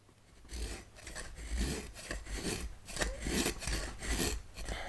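An old pleaching billhook blade is sharpened on a diamond or wet stone, making steady rhythmic rasping strokes, roughly two per second, close and continuous with no talking.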